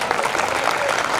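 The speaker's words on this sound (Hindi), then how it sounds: "ताली बजाओ ढंग से बजा सकते हो तो।" Audience applause at a live stage performance in Khandwa, a steady dense wash of clapping lasting the whole short moment with no voices on top.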